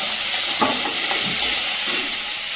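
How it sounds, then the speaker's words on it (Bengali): Spices and crab frying in a pan for a bottle gourd curry with crab, giving a steady close hiss and sizzle, broken by a few soft stirring knocks. "মশলাটা ভেজে নিয়ে কাঁকড়াগুলো দিয়ে দেবো।"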